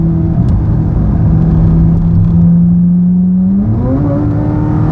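Matte black Corvette Z06 with the Z07 package, its engine held in track mode, gives a loud, steady close-up drone whose pitch climbs near the end as revs rise, with no voices over it.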